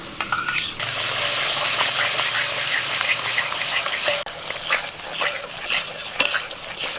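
Spice paste with a splash of water sautéing in a pan for egg and potato biryani, a steady loud sizzle with scraping stir strokes and a few sharp utensil clicks, no voices.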